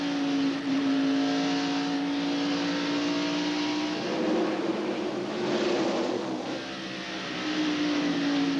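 A 1998 NASCAR Winston Cup stock car races at Bristol Motor Speedway, its engine holding a loud, steady high-rpm drone near 9,200 RPM, with a brief surge of other cars passing midway before the tone settles again.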